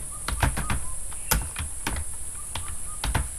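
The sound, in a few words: typing numbers on a computer keyboard in PowerPoint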